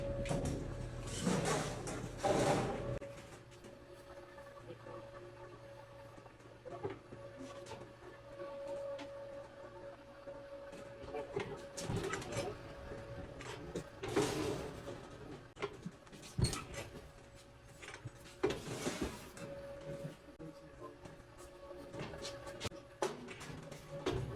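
An HVAC sheet metal machine forms a 1 inch flange on a spacer box, giving a steady mechanical hum broken by sharp clanks and bangs of metal, loudest near the start and again midway, with no one talking.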